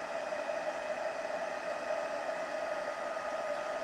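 A heat tool blows steadily while melting embossing powder on a handmade card, a constant whirring hiss with a faint whine, fairly quiet and unbroken, no talking.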